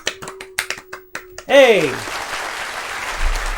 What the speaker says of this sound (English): How long do we have to clap for?